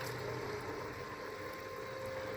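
A raft bilge pump runs with a steady, quiet motor hum and faint watery churn, constant throughout with no talking.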